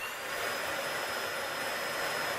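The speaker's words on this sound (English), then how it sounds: "the motor's excellently running, and we have a good suction there." A repaired vacuum cleaner motor runs at full speed, a loud steady whining roar close to the microphone with no pauses or talk.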